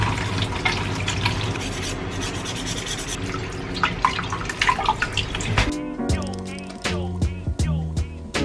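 Bite-size chopped apple pieces tumble into a pan of boiling water in a home kitchen, with a stretch of bubbling and splashing followed by a few sharp clinks and knocks against the pan.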